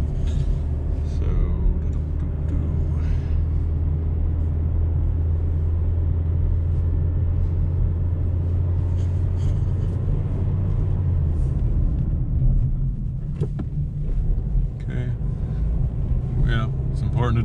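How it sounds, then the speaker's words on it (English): A 2018 Mazda3 on a short test drive after a tire rotation gives a steady low rumble of engine and road noise from inside the cabin. The drone eases off near the end as the car slows, and a person talks over it. "then we'll take a quick test drive just to make sure everything feels right"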